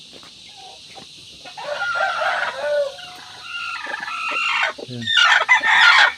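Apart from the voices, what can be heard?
hen clucking and crowing among chicks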